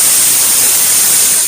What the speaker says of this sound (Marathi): 1 शिटी झाली